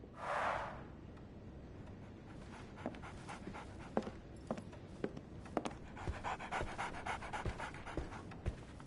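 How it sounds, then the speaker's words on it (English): A dog panting in a Sherlock Holmes adventure game, preceded by a brief whimper, then a long run of quick, rhythmic breaths with small clicks, close and fairly faint, with no voices. "So, Barnes has a dog now."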